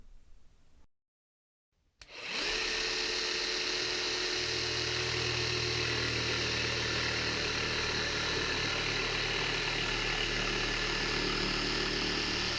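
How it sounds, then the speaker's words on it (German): A cordless Bosch GST 18V-Li S jigsaw set to maximum pendulum stroke saws into a coated shelf board. After a moment of near silence it starts abruptly, then holds a loud, steady, buzzing whine for about ten seconds. "Dazu sägen wir mit maximalem Pendelhub in ein beschichtetes Regalbrett."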